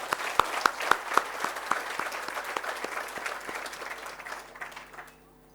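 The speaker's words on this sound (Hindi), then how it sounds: "एक बार जोरदार ढंग से अपने विविध क्षेत्र और अन्य संगठन के अधिकारियों के लिए जरा एक बार ताली वर्धन कर देंगे" An audience at a conference gathering gives a short round of applause, distinct claps at first that thin out and fade to silence within about five seconds.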